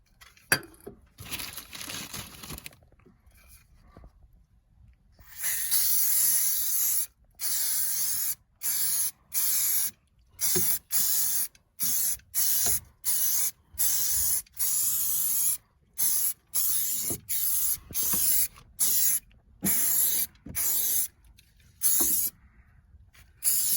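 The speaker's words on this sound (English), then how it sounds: "let's go ahead, spray some on and see how it goes" An aerosol can of Bilt Hamber Dynax UC underbody rust-proofing coating sprays on a Ford Fiesta ST mk8 in repeated short hissing bursts with brief gaps, close and loud, after a few quieter rustles.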